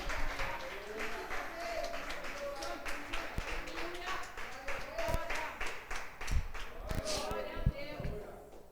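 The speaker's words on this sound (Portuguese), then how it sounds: "Se você pode, aplauda o Senhor que está operando na sua casa agora." Church congregation applauding during a sermon, a loose, uneven patter of many hands clapping at moderate distance with sharper individual claps standing out and a preacher's voice running over it.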